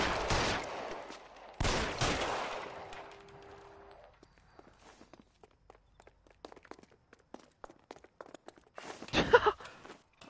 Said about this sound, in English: I'm shooting the shit out of him.